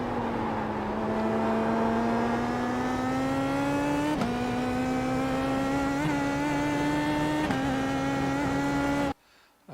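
A car's engine hums loud and close in second gear on the Nordschleife, its steady tone rising gradually with small dips, then cutting off abruptly near the end.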